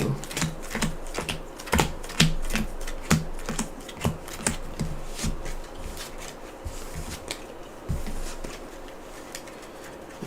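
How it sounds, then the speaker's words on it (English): Cards from the Dark Souls card game being shuffled by hand on a table, a quick run of crisp riffling and tapping clicks, close and fairly quiet, with no talk. "give them a good shuffle"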